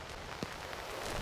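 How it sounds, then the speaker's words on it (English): Soft, steady rainfall patters in a video game, faint and continuous over a brief stretch with no other sounds. "The only sound you hear is the rain as you continue forth."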